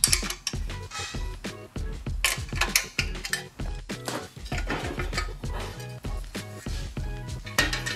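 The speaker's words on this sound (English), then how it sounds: "we're gonna use a 13 millimeter wrench" A 13 mm wrench works loose the exhaust fasteners on a Predator 212 small engine, giving dense, loud metallic clicking and clanking close by. The bursts come continuously throughout, with no talking.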